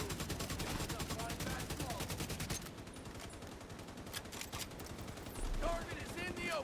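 Rapid automatic gunfire in The Division, a fast steady burst of close shots for a few seconds, then sparser shots and explosions farther off.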